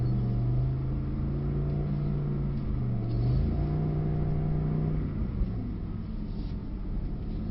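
A Mercedes SL63 engine drones steadily from inside the cabin, with a low rumble that rises and falls slightly as it revs.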